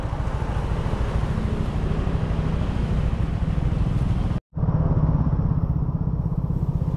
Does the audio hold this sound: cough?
no